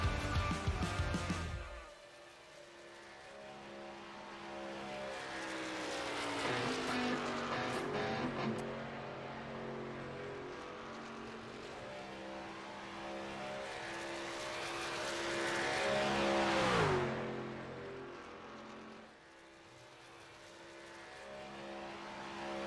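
A NASCAR race car's engine drones on a qualifying lap at Daytona, a steady high roar that shifts pitch through the gears and swells as it passes, loud and alone.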